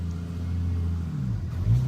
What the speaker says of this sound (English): Yes, you have a loud car.